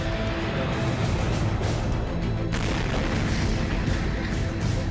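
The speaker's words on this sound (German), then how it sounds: "Über der russischen Millionenstadt bricht der Meteor auseinander. Er explodiert in der Luft." The Chelyabinsk meteor breaks apart and explodes in the air above the Russian city: a loud, continuous, rumbling roar that swells into a second, harsher burst about halfway through.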